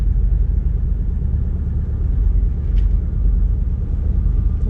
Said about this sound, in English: motoring through the channel